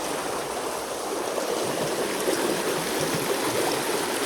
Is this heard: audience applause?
no